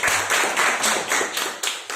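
At a speakers' forum, an audience claps in short bursts, a few close, uneven rounds of hand claps filling the brief moment.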